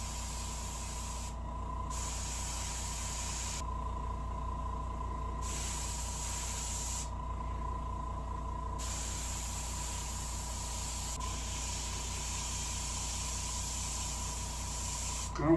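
A paint sprayer hisses in repeated bursts of a few seconds each, separated by brief pauses, near and fairly soft, while a bobcat taxidermy mount is being painted.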